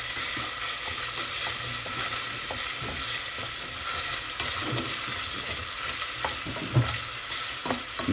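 Carrots sizzling in a pan as they soften, for a lamb ragù: a continuous, fairly loud hiss with scattered light clicks and scrapes of stirring all the way through.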